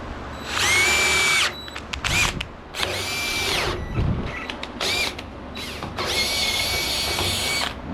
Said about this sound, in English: let me drill this other hole real quick